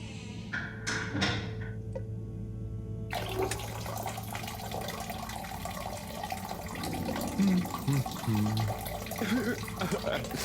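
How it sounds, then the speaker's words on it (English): Shower running in the Harold Halibut video game, a steady broadband water hiss that starts abruptly partway through and continues to the end, with a few thuds and soft background sounds mixed in. "Sounds like the shower is playing up."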